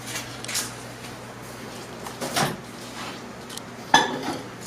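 A few clinks and knocks of a glass container and its cover being handled and set down, sparse and close in a quiet room, the sharpest tap near the end.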